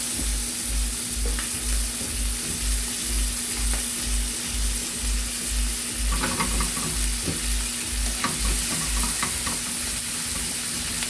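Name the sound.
steak being basted with melted butter in a frying pan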